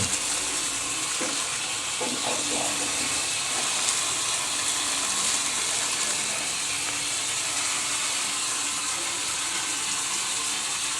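Frozen sempolan frying in hot oil while being stirred, a dense steady sizzle and hiss filling the scene, close and continuous with faint clinks from the stirring.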